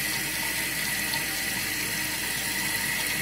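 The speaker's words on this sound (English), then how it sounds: "as the water fills up, it's going to hit that little plunger thing" Toilet tank refilling after a new fill valve and flapper are fitted, a steady close hiss and rush of water pouring in without a break, no voices.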